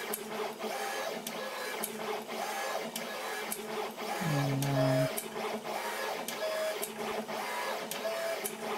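An automated pick and place machine assembling an SBMS100 circuit board whirs and buzzes steadily, with periodic clicks and short motor tones repeating at a mechanical pace.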